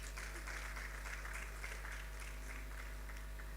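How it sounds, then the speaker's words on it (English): Steady crowd applause at a mothers' conference, many hands clapping at once, sustained and somewhat distant over a low hum. "So clap for yourselves."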